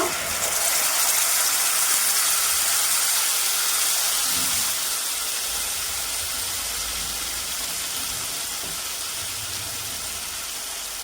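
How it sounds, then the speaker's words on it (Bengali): Spice paste fries in oil for an aloo tikki chaat, giving a steady, loud, broad hiss and sizzle that holds nearly constant and fades slightly toward the end, with no talking. "একটু তেল দিয়ে মশলাটা কষিয়ে ফের এটাকে ঢেলে দিব"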